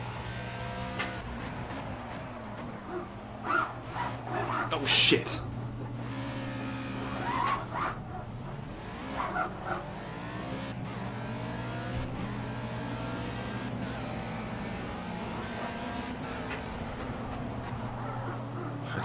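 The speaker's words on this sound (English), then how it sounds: "These LMP3 cars are really good fun." An LMP3 prototype race car in the racing game Project CARS screams through its gears, the engine whine rising and falling steadily with bursts of tire skid, while someone talks briefly and exclaims in alarm.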